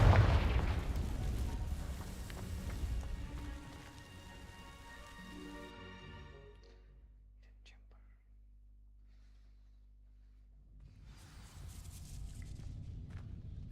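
Hogwarts Legacy's Confringo fire spell detonates against dry vines in a loud, close explosion that slowly decays into a fading rumble, followed later by a crackling, rain-like rustle.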